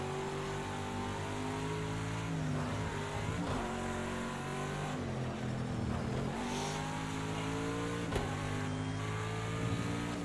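An Aston Martin GT race car engine in an IMSA GTD Pro racing game at Indianapolis, revving loudly and continuously close up, with repeated upshifts and downshifts as the pitch climbs and drops through the gears.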